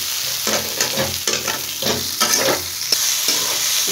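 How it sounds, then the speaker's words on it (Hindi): Onions frying in a pan while being stirred, with rhythmic scraping strokes roughly every half second over a continuous close sizzle. "इस तरह से मिक्स करते रहें और पकाते रहें।"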